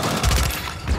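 Rapid bursts of gunfire in Call of Duty, a dense, loud fusillade with a low thumping body that swells and repeats across the second, with no talk.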